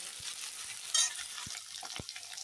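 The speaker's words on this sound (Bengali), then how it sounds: "কড়াইতে তো তেল গরম হয়ে গেছে আস্তে আস্তে আমি দিয়ে দিচ্ছি এই আলুগুলো ভেজে উঠিয়ে নেবো" Potatoes frying in hot oil in a wok, a soft steady sizzle with a brief louder spatter and a few light clicks of stirring, quiet and close.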